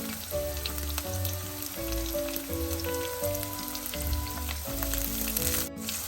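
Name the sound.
dried chillies and onion frying for breadfruit curry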